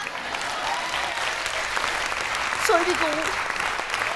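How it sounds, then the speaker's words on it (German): A live audience at a science slam at the Roxy in Ulm gives warm, sustained applause for a participant. The clapping stays steady, and one person briefly speaks over it near the end. "Also nochmal einen herzlichen Applaus für Max."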